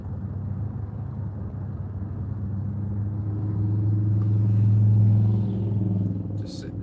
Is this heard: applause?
no